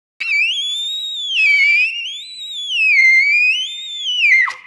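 A trumpet sounds a siren squeak exercise, bending one high, bright pitch smoothly up and down in continuous waves for several seconds. It is loud and close, with no talking, and ends in a quick downward drop.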